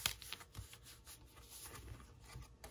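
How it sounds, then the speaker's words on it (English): A deck of cards shuffled during a tabletop session of the board game Bardsung, soft riffling and flicking in quiet, irregular bursts, close and low in volume. "Right, let's shuffle."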